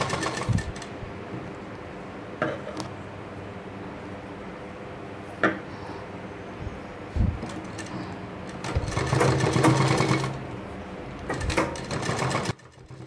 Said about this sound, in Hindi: यहाँ पर हमें हमारा कॉर्नर है इसके ऊपर सिलाई लगानी है